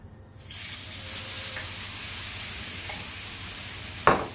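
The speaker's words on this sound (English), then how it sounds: "and now let's put in our meat" Bulgogi meat dropped into a hot, oiled pan gives a steady broad sizzle that starts abruptly and holds at moderate loudness close by, with a brief sharper crackle or clatter near the end.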